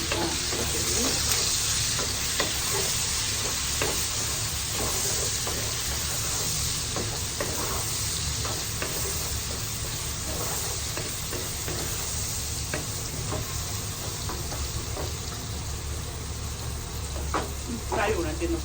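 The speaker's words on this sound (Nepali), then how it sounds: "प्याज हालेपछि चाहिँ हामीले फेरि मजाले फ्राई गर्नुपर्ने हुन्छ।" Onions for chow mein fry loudly in a pan with a thick constant sizzle, stirred with regular scraping strokes, while a background hum runs underneath.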